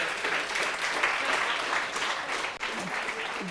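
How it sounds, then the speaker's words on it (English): An audience breaks into steady applause, a dense patter of many hands clapping at a presentation, holding fairly level for a few seconds with a voice speaking over it. "Please clap, yes."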